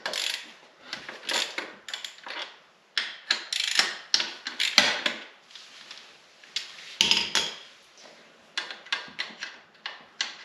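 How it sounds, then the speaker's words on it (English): A wrench with a 6mm Allen head ratchets out the caliper bracket bolts on a 2016 Kawasaki Ninja 650, giving close, crisp clicking bursts separated by short pauses. "We're going to take out the bolt here and the bolt here for the caliper bracket."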